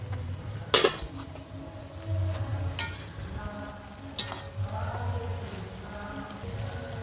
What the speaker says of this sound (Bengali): ঢাকনাটা খুলে এবার একটু নেড়ে চেড়ে দিচ্ছি আমি।